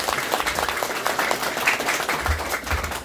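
A crowd claps in a brief burst of applause, moderately loud and continuous for a few seconds.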